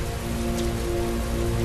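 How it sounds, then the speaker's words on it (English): Heavy rain in the video game Heavy Rain, a dense, steady hiss of downpour on surfaces, loud and close, with a low constant hum beneath and no talking. "Heavy rain. It's been the same for weeks."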